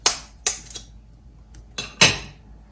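Several sharp taps of an egg being cracked against a hard edge while making a Canadian breakfast, a few quick knocks in uneven rhythm followed by a louder final crack, close and clear.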